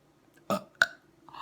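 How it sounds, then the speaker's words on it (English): Two short, throaty burps in quick succession, close and fairly quiet, followed by the start of a voice. "You burped on camera."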